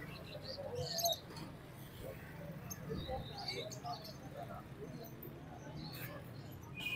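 Pigeons and Australian parrots at a bird market give faint coos and scattered chirps, with background chatter and voices talking nearby throughout.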